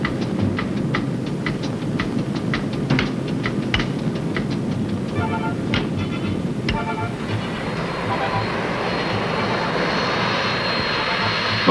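Four-engine airliner engines from a United Airlines aircraft, a loud, steady droning roar that holds throughout with faint clicking and rattling on top.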